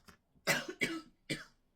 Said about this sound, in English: it's blooming cough